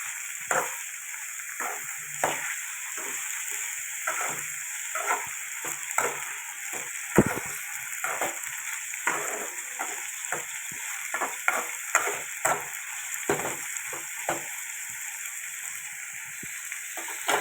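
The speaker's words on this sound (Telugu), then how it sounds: "ఉల్లిపాయలు తాలింపు గింజలు వేసేసాను" Onions and tempering seeds frying in oil for a raw banana fry, a steady close sizzle broken by frequent crackles and pops throughout.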